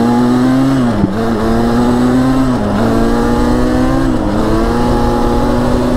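An ATV or dirt bike engine drones steadily and loudly close by, its pitch rising and then dipping briefly three times as gears are shifted without the clutch, with no talk over it.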